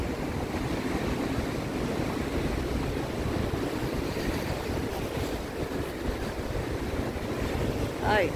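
Continuous roar of ocean surf rolling onto Boa Viagem beach, a steady broadband wash with wind on the microphone and no clear breaks.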